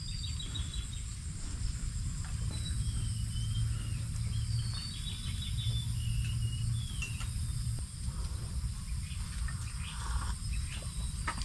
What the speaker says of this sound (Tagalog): puro huni ng ibon habang nagkakape.